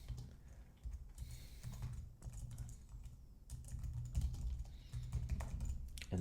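Steady typing on a computer keyboard, close and continuous, with quick key clicks in uneven bursts over a low background hum throughout.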